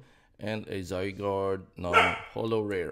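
A cockapoo dog barks in short bursts partly masked by a person talking steadily over it in an indoor setting.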